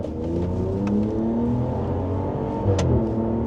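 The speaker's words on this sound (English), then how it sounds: "Oh, you hear it like shifting." A 2026 Ram 1500 RHO truck accelerating, its engine a loud close drone with pitch rising and falling as gears shift, heard from inside the cab.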